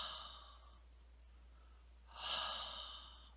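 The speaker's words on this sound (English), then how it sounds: "this is Ujjayi breathing" A single long, audible breath drawn or pushed through a narrowed throat, the hissing, sigh-like Ujjayi pranayama, swells near 2.2 s and fades away. A fainter breath passes earlier, and no one speaks over it.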